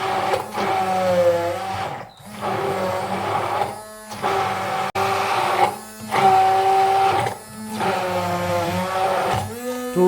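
A Silvercrest SSMS 600 E5 hand blender runs at maximum speed with turbo engaged, giving a loud, close, steady motor whine that briefly dips or pauses several times.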